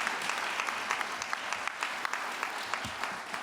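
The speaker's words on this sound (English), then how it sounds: "Round of applause," Awards ceremony audience applause, a steady wash of many hands clapping at moderate volume throughout, with no speech.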